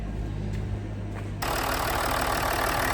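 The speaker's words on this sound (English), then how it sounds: "Normally these engines are prone to cam chain rattle, I think. This one sounds beautiful." A diesel engine idles steadily nearby with a low rumble, its sound growing brighter and harsher partway through as it settles into a rough, even clatter.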